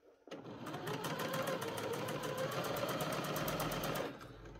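Sewing machine stitching a channel in a joggers top to hold the lining, a fast, even, close mechanical whir with rapid rhythmic needle clatter for about four seconds before stopping.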